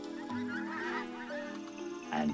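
A goose honks loudly and close by in a run of harsh, nasal, strongly tonal calls, alone with no talk, ending in a louder final honk.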